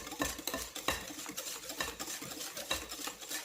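A utensil stirs and mixes a wet sweet potato pudding batter in a bowl, making rapid, rhythmic scraping and soft clattering strokes, close and continuous.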